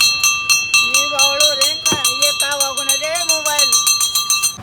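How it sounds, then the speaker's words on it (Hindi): A hand bell rung again and again at a rabri kulfi ice cream stall, its sharp metallic strikes falling in a quick steady rhythm with a lingering ring, while a voice carries on loudly over it. "चलो घंटी बजाई जाए।"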